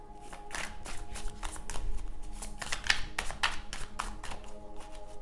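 Tarot cards being shuffled by hand, a close, steady run of papery riffling and tapping bursts with no talking.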